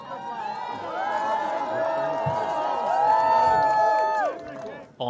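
A crowd cheers and calls out as King Charles greets people, a sustained mass of voices with whoops and shouts, loud and continuous, with a reporter talking over it.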